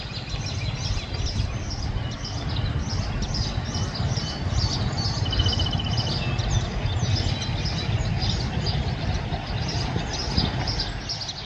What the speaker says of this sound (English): Keep an eye on those birds.